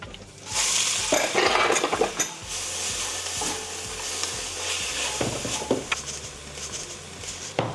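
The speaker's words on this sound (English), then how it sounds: "This is something quite nice about frying up onions." Onions fry in a Dutch oven for Texas brisket chili, a steady close sizzle broken by irregular scraping and clattering stirs against the pot, with no talk.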